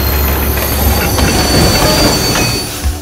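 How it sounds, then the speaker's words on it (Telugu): A train pulling into a station sounds loud and close, with rumbling wheels, rhythmic clacking over rail joints and high metallic squeals from the wheels as it moves along the platform. "అలర్ట్ అలర్ట్, ట్రైన్ వస్తోంది"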